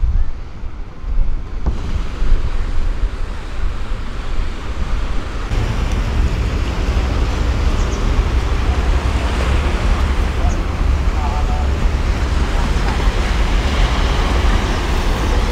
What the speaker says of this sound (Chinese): 你看这个海水一下子涨潮了